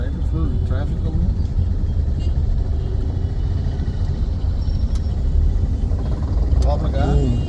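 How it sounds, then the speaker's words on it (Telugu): Heavy road traffic in Patnam Bazar, Guntur: a dense, continuous rumble of engines and vehicles close by, with people talking over it throughout. "రైట్ ఫుల్ ట్రాఫిక్ ఉంది."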